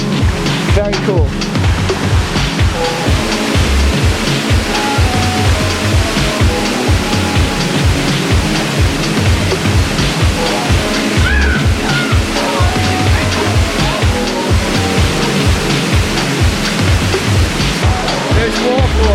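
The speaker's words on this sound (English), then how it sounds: "This is the hidden waterfall." A hidden waterfall rushes loudly and steadily at close range, a dense unbroken roar of falling water that fills the whole scene from start to finish.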